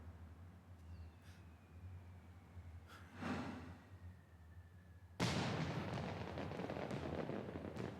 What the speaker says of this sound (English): Oh, fireworks this time